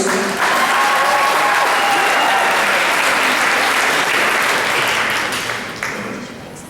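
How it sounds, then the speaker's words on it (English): Loud, sustained round of audience applause for justice awardees at a community fundraiser event, a thick continuous clapping wash that tapers off toward the end. "Can we give another big round of applause for all of our standing up for justice awardees?"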